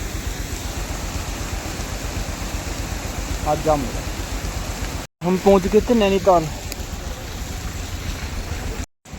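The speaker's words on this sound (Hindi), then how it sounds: "देखो भाई कितना तेज पानी है" Steady rushing water of a fast-flowing hill river near Nainital, in rain, roars throughout, loud and close, with someone talking briefly over it in two short stretches.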